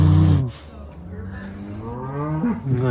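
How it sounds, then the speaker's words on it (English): A young calf in a halter lets out a loud, drawn-out moo close by, followed by a second, wavering low moo that rises and falls in pitch. "Can you say hello? Say moo."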